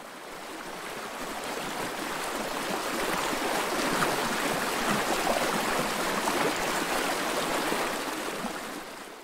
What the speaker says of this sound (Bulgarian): Река.